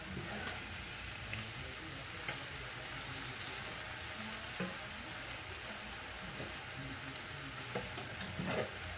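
Okra fries in a pan with a steady, soft sizzle, broken by faint scrapes and clicks as the pieces are flipped, quiet throughout with no speech.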